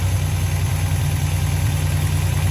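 A DeLorean DMC-12 engine idles steadily with a low, even rumble and constant hum, close and fairly loud, no talking.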